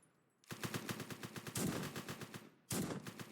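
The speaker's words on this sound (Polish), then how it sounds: "A dwa strzały." Rapid bursts of automatic gunfire rattle loudly and continuously, with a brief pause before another volley; no talking.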